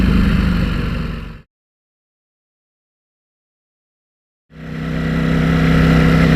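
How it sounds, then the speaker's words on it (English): Ducati Panigale V4S motorcycle engine while riding at night: a loud, close engine roar for over a second fades to complete silence for about three seconds, then the steady roar swells back in. "Riding at night on the mighty V4s Panigale then."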